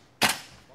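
Single sharp gunshot in a first-person shooter game set at a mosque base, one loud close crack that fades into a short tail.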